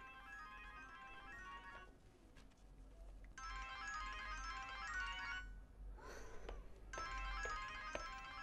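A phone ringtone sounds in several long bursts separated by short pauses, fairly quiet over a low room hum, in a Turkish drama scene.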